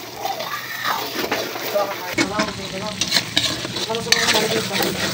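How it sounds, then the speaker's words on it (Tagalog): Ground meat and shrimp paste sizzling and being stirred in a frying pan, a close, continuous crackle with scraping while a voice speaks over it. "Tustahin ko po muna yung giniling at saka yung alamang."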